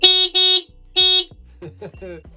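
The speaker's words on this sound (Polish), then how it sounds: "mamy tu jeszcze funkcję klaksonu, czyli zdalnie możemy sobie bejtować ludzi" A remote-controlled horn gadget fitted to an e-bike honks twice loudly and close by, two short electronic blasts followed by a third, and then people talk.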